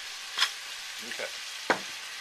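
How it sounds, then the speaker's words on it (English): Beef burgundy fries in a pot with a soft steady sizzle, broken by a few brief scrapes and clinks of a spoon stirring, quiet and close. "Give that a stir around."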